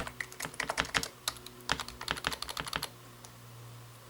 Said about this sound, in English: any larger keys like the spacebar and the enter button seem to make quite a bit of noise when you mash them